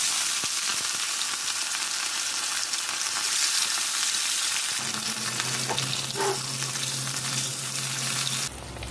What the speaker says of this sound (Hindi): अभी एक कढ़ाई में थोड़ा सा सरसों का तेल लेकर हम लोग मछली के पीसेस को बराबर फ्राई कर लेंगे